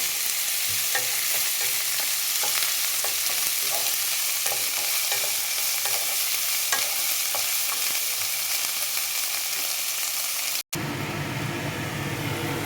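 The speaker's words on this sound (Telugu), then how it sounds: "ఈ ఉల్లిపాయలు బ్రౌన్ కలర్లో వేగాయండి" Onions for a cauliflower and drumstick curry fry in a pan with a steady, close sizzle, while a utensil stirs and scrapes through them in a soft, regular rhythm.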